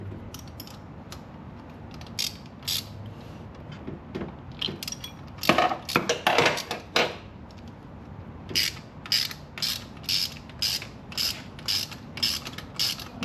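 A ratchet tightens an Inconel turbo stud nut on a turbocharged Miata, giving close, rhythmic bursts of clicking at a steady pace, with a few bursts of heavier clatter in the middle and nobody talking.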